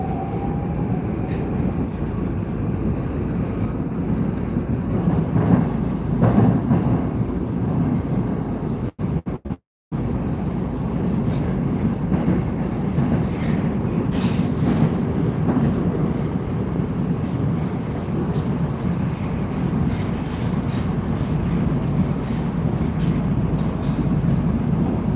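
Moscow Metro train riding along, a steady loud rumble of wheels and carriage with a brief dropout midway, continuous throughout with no talking.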